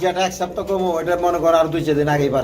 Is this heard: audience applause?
no